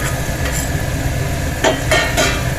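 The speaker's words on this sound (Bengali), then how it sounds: "এবার আমি এর মধ্যে স্ক্রাম্বল এগটা মিশিয়ে দিচ্ছি" Flattened rice and scrambled egg are stirred in a hot pan, a steady close sizzle broken by a few quick scraping strokes of the spatula toward the end.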